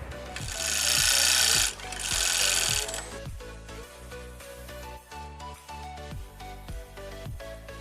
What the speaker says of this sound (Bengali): ঘাটের কাপড়টাকে আমি এভাবে সেলাই করে এখানে লাগিয়ে দিব